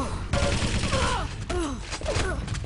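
Rapid weapon fire in a Quake Live team deathmatch, with repeated loud bursts and blasts crowding together, under a voice speaking.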